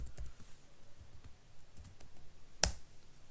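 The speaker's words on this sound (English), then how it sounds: "Now let's type here." A few quiet keystrokes on a computer keyboard, soft scattered taps followed by one sharper click, faint and close in a quiet room.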